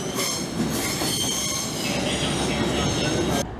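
A train on the East Coast Main Line near York, a loud continuous rumble of a passing railway train with squealing wheels and steady roar of wagons close by, cutting off abruptly at the end.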